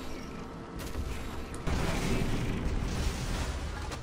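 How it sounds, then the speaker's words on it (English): An Atlas mech explodes in Mass Effect 3 combat: a sudden heavy boom bursts in partway through, then a sustained loud crackling roar of blast and debris over ongoing battle noise. "I kind of figured the Atlas explosion would kill the other Atlas"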